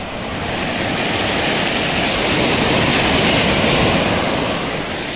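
Deep, rough sea waves crash and roar without a break at Point Pedro Murkam beach, a loud broad wash of surf filling the whole moment with no voices.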